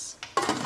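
A lid is set onto a pot of boiling chicken with a brief metallic clatter and ring, close and moderately loud, preceded by a light scrape.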